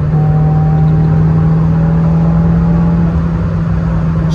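A Renault Clio 16S being driven hard, its engine holding a loud, steady drone with a strong low tone and a faint whine, close and continuous throughout.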